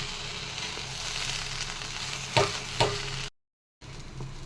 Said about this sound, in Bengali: খুব ভালো করে কষিয়ে নিচ্ছি সমস্ত কিছু, চাল, আলু, চিকেন